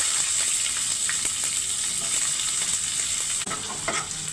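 Onion pieces fry steadily in hot oil with cumin and mustard seeds in a home kitchen, a continuous close bright sizzle with faint stirring scrapes and no talk.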